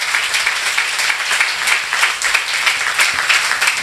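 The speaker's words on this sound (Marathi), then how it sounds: "जोर जोरात टाळ्या वाजवणी प्रभू येशूचं स्वागत करम." A church congregation at a Marathi prayer meeting in Naigaon claps loudly together to welcome Jesus. The claps are steady and rhythmic, with many hands striking in time, and there is little talk.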